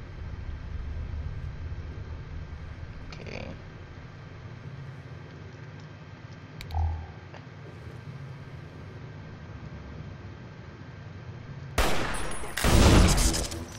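Burst of rapid gunfire in a Fallout New Vegas firefight: a few faint shots early, one thump near the middle, then a loud clustered volley near the end over steady background hum, with no voices.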